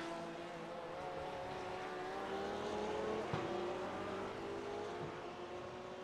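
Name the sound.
McLaren sports car revving and shooting flames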